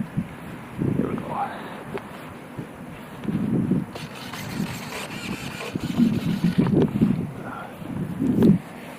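Wind buffets the microphone on an open flying field while an electric Hobbyking Art-Tech 34-inch Pitts Special RC biplane flies in turbulence, gusty low rumbles swelling and fading in bursts with a faint motor hum behind.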